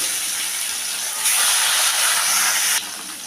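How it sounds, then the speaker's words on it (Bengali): Katla fish pieces frying gently in hot oil, a steady close sizzle and hiss that swells louder partway through, then settles back. "তো এখন আমি মাছটাকে ভাজতে দিয়ে দেবো।"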